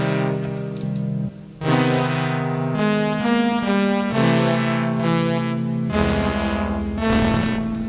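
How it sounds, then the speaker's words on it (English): A loud, buzzy retro synthesizer on a Polyend Tracker plays a sequence of sustained Commodore-like chiptune notes with echoing reverb, shifting pitch every second or so. "Actually sounds like a Commodore."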